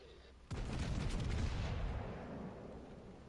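A warship's gun salvo in World of Warships Legends erupts abruptly with a heavy, booming blast, its rumbling roar lingering and slowly decaying over a few seconds.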